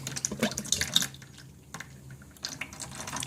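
Liquid flows through a freshly opened valve on a biodiesel processing unit, a close, uneven gurgling wash that starts busy, eases briefly and then surges again with dripping splashes.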